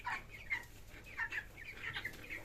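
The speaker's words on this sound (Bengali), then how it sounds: "প্রচুর খায় পোলট্রি মুরগিগুলো, প্রচুর খায়।" Poultry chickens kept in a small backyard pen on a home mini farm cluck repeatedly in short, scattered bursts, fairly faint and close, with no voices.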